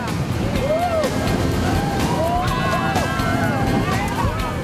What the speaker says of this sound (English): you can feel the thrust of those 900 horsepower motors